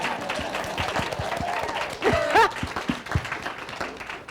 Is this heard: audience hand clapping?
yes